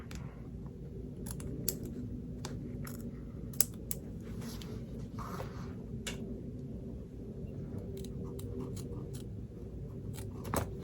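Scissors snipping fabric on an in-the-hoop zipper bag, a run of crisp, irregular close-up cuts over a quiet room hum.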